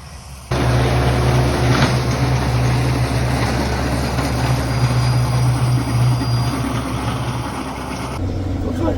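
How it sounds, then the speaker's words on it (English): A swather cuts triticale hay in a field, its engine a loud, steady drone that starts abruptly and holds close and continuous before cutting off near the end. "Looks like we got this little swather drag racing going on"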